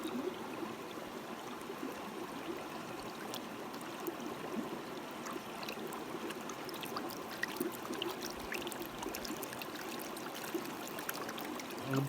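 Water swirls and trickles steadily as black sand is panned in a gold pan, a continuous close sloshing wash with small splashes throughout and no talk.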